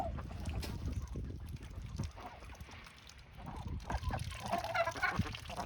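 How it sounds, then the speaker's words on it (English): Ducks quack in a noisy cluster, their calls overlapping and fairly close, with constant rustling background noise throughout. "Another thing is the duck's quack difference."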